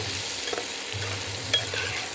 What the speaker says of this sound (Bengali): এবার একটু ভালো করে ভেজে নেব